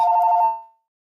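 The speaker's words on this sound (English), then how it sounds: "So that was the house phone." A house phone rings once, a short electronic tone burst that cuts off and decays into silence, fairly loud and close.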